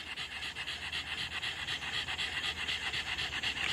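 A large dog pants hard and rhythmically after a seven-kilometre walk, the quick breaths steady, close and continuous with no talk over them.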